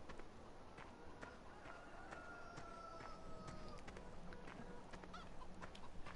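Clucking and honking fowl calls from chickens in the video game Goldcrest, scattered short calls over a faint steady background with footsteps, quiet and somewhat distant.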